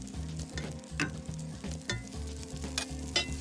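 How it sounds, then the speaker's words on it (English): Steady sizzling of kale and beetroot frying in a pan, with occasional stirring scrapes and clicks, close and continuous, no voices. "So the kale and the beetroots just touching the frying pan."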